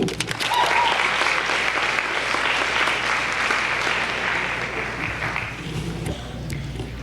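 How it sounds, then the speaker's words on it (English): Sustained audience applause at a high school senior awards ceremony, a dense even roll of many hands clapping that fills the hall for about seven seconds and slowly thins toward the end. "And to continue on with the awards, please, round of applause for Miss Linda Bowler."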